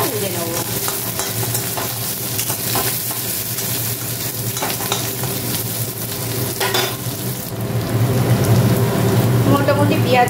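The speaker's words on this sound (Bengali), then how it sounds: "পেঁয়াজগুলো দিয়ে আমি একটু লাল লাল করে ভেজে নেব" Onions frying in a wok give a steady, close sizzle with stirring scrapes throughout, growing a little louder near the end.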